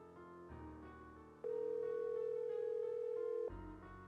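A steady telephone dial tone in the Nancy Drew game Message in a Haunted Mansion hums for about two seconds over quiet background music, then cuts off.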